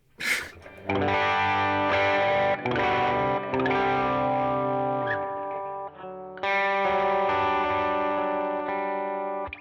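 Low-gain electric guitar played through a 1981 Inventions DRV pedal, sustained chords ringing out in a few strummed phrases with gentle grit, clear and close with no talk.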